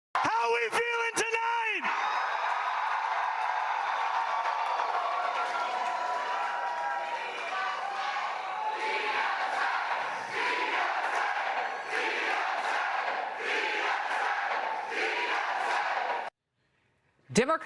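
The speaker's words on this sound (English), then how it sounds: "Cheers, chants, all in support of the Democrat Socialists of America." Large crowd at a Democratic Socialists of America political victory rally cheering, yelling and chanting loudly and continuously, following a brief sharp sound at the start and ending with a short cut to silence.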